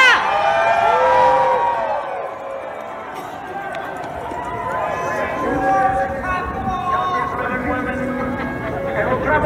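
A large crowd at a political rally before the January 6 Capitol attack cheers, shouts and whoops loudly, with raised voices swelling at the start and sustained, dense crowd noise continuing throughout.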